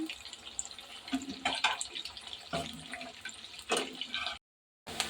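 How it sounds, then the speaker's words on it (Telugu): Chicken pieces frying in oil for a pickle, a steady close hiss and sizzle with irregular crackling bursts, no talking. "చూసారా, బాగా వేగుతున్నాయి."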